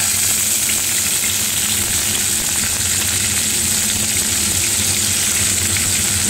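Beans frying in hot oil for fried rice, a loud, dense and constant sizzle with crackling texture that fills the whole stretch without a break, close up and free of speech.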